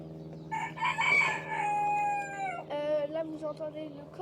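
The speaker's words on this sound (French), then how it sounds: "Là, vous entendez le coq." A rooster crows loudly in a long drawn-out call, followed by fainter clucking and bird noises in a garden setting, over a steady background hum.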